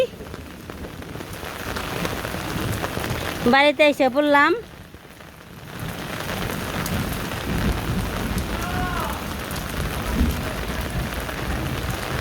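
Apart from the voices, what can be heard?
rain falling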